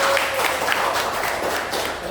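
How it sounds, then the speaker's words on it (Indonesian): A classroom full of students claps together, a dense, moderate-loud burst of applause that fades slightly toward the end. "Tepuk tangan untuk kita hari ini."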